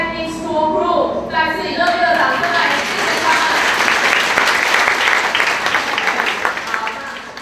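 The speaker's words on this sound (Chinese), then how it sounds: "let's give your big applause again to thank Technics Tour Group" An audience gives a burst of loud, dense applause at a partnership event between SYIC and Techniks Tour Group. The clapping starts sharply and stays steady, with a voice speaking over it at first.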